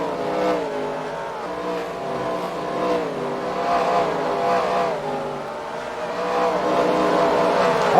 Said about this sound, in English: gonna let these cars fly by us here